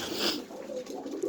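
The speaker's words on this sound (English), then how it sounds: "Oh, look, white pigeons" White pigeons cooing softly in a short, low murmuring call, with steady background hiss and no talk.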